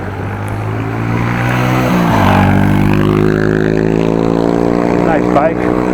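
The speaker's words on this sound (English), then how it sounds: "Motorcycle behind me." An older-style motorcycle passes behind a car on a Dutch country road near Groningen, its engine drone building and sliding upward in pitch as it closes in, steady and fairly loud under the cabin hum, with someone talking over it.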